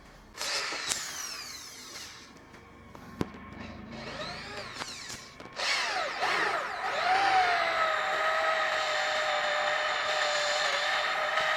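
A DongCheng DJZ10-10 electric drill bores through material with short starts and revving bursts, then settles into a loud, steady high-pitched whine for several seconds, close by with no talk.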